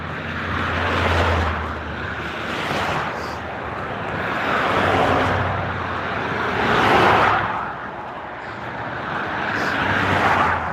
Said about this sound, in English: I'm trying to talk between the cars because I'm sure it's loud